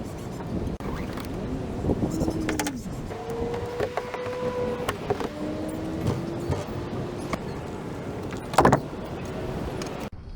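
Unloading a Hobie Passport 12.0 pedal kayak from a car roof outdoors: scattered thumps, knocks and scraping handling noises over steady wind and background rumble, with one sharper clunk near the end.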